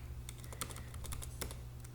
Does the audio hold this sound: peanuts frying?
no